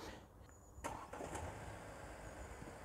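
A Chery Tiggo 8 Pro starts remotely from a key fob, a faint distant crank and catch followed by a low, quiet idle heard from outside the SUV.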